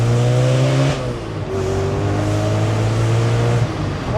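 A supercharged 630 bhp Audi RS4 Avant accelerating hard, heard from close by as a loud engine roar rising in pitch, dropping briefly at a gear change, then climbing again.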